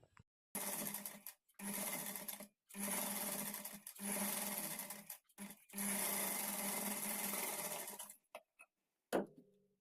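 Blouse piping is stitched on a sewing machine in five or six separate runs, each a loud, close, steady whirring burst with short silent pauses between, ending in a small clunk.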